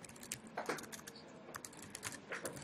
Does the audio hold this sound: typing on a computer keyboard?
yes